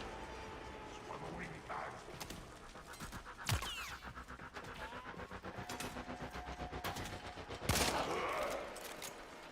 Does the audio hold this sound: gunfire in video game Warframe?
yes